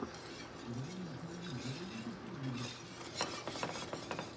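A whisk scraping in a cast iron pan while water is added a little at a time, giving a low, steady swirling rattle with rhythmic clicks, close and moderate, followed by a few sharper taps near the end.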